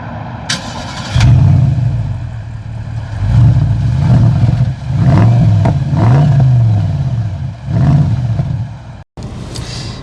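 A Bentley Continental GT starts up with a sharp crank and loud bark, then revs several times in rising and falling swells before settling into a deep idle, close and loud with no voices.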